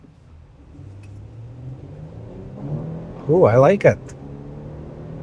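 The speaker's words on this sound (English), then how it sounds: "we'll see how this vehicle accelerates from 0 and see how fast it goes" A 2025 Nissan Armada pulls away from a stoplight with a low engine drone that rises gradually as it accelerates, while a voice makes a short, pleased remark over it.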